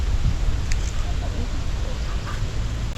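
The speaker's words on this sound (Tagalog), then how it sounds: "Lakas ng hangin." Steady strong wind roars across the microphone with low rumbling buffeting, continuous and close, outdoors under trees in the Philippine countryside, with faint voices in the background.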